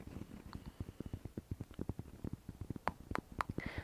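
A cat licking a person's arm aggressively: quick, rhythmic wet rasping strokes repeating steadily, close and fairly quiet, with no talking.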